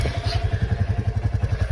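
Royal Enfield Classic 350 single-cylinder engine running, a steady, close thumping idle pulse with a regular beat throughout.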